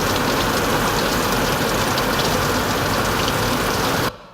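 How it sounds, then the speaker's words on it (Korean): Recorded rain falling on a car, a dense steady hiss and patter filling the space evenly before cutting off abruptly near the end. "먼저 우타음이라고 해서 비 떨어지는 소리거든요"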